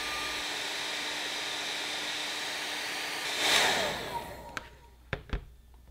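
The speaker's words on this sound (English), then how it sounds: "Take either a blow dryer or a heat gun and heat each edge for 30 seconds." A blow dryer or heat gun runs steadily, heating the edges of Delrin plastic parts. The broadband airflow hum is loud and continuous, then cuts off partway through, followed by a few sharp knocks and taps.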